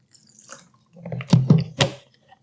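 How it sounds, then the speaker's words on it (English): A couple of quick splashes of water hit a pan of meat sauce for polenta, making short, soft wet pours and splats that end with a faint drip, with no one talking. "And it says a couple splashes of water."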